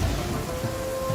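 Rain hisses steadily in Genshin Impact, a dense wash of drops with a low rumbling undertone that suggests distant thunder, heard alone in a brief moment.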